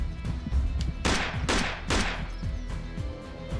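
Gunfire from the video game Alekhine's Gun: three sharp, loud shots about half a second apart, with fainter thuds and clatter around them and no talk.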